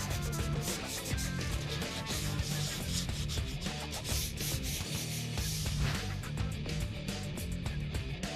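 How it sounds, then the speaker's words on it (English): Continuous rough rubbing and scraping of hand-sanding body filler on a 1964 Mercury Comet drag car, steady back-and-forth strokes close by, with no talking. "shaping and sanding as I go."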